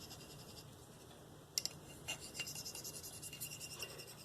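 A Spyderco Native 5 Lightweight knife with a Maxamet blade being sharpened with light pressure, faint rhythmic scraping strokes on the stone after a couple of sharp clicks, with burr breaking off, quiet and close.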